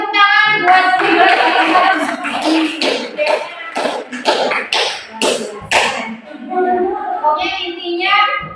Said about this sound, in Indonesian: kita kasih tepuk tangan buat Bunda